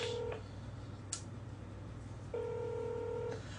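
A landline telephone call: a short burst of keypad dial tones, then a click and repeated electronic ringback tones pulsing unanswered, with no one speaking.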